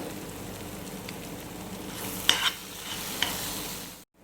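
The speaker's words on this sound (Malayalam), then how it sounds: "ഫ്രൈ ആയി ഇതൊന്ന് കുക്കായി വരട്ടെ." Masala for fish biryani fries in a pan with a steady close sizzle, stirred now and then, a few light scrapes and clicks rising above it before it cuts off.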